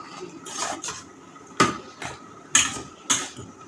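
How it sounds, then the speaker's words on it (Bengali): Ghee-fried paneer and pre-beaten curd are mixed together in a bowl. Close, irregular clinks and scrapes of a utensil against the bowl come in short bursts, with no talking. "এবার এটা মাখাবো"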